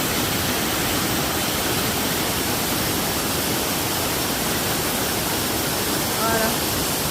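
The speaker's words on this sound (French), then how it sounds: "Et donc là, vous avez la cascade." Ardent waterfall cascade heard from a bridge above it, a dense, constant roar of rushing water filling the whole clip at close range.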